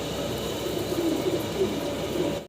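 A healthy, active female pigeon coos in a low, soft, repeated call close by, set against a constant background hum before the sound cuts off abruptly.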